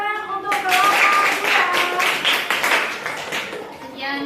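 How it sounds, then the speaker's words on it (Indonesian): Classroom students clap for a presenting student group, a dense burst of hand claps lasting a few seconds at close range, with children's voices mixed in before and after. "kasih tepuk tangan untuk kelompok"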